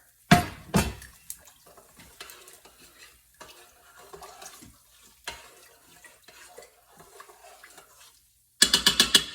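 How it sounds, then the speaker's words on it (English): Food stirred inside an Instant Pot, with a spoon scraping and knocking against the metal insert in a loud burst at the start, then quieter intermittent scrapes, ending in a sharp rapid clatter. "Add it in here. And give it a stir."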